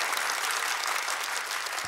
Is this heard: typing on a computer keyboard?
no